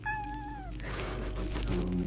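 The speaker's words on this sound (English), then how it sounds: "She thought she was rescuing a stray kitten, but Roswell had other plans." A stray cat gives one clear drawn-out meow close by, followed by a rougher, quieter cry.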